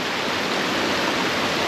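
A waterfall near a swimming hole pours out a steady, dense roar of falling water, loud and close, with no voices over it.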